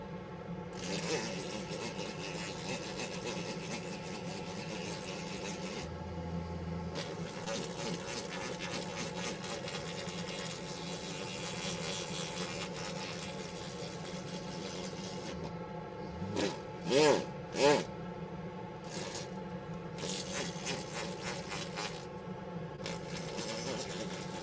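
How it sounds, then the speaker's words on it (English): Sandpaper rubbing on a broken dental splint in an orthodontic lab, a steady close scratchy hiss that runs continuously, with a few brief sharper clicks toward the end. "time for sandpaper and pumice"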